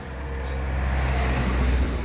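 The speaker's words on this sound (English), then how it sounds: "Sorry if there's cars driving by." Steady low road rumble from cars passing nearby, a continuous broadband roar that swells slightly toward the end, with no talking.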